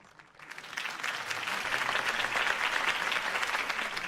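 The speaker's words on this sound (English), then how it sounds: "If only Mr. Wayne, my campaign's largest backer, could have heard that applause" Crowd applause after a campaign speech in the Batman Telltale video game builds from quiet into steady, dense clapping and cheering that holds for about four seconds, somewhat distant and alone.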